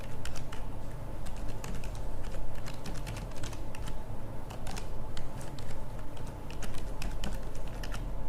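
Rapid, irregular clicking of a computer keyboard as an email address goes into an online passport application form, close and steady with short pauses between bursts of keystrokes and no talking.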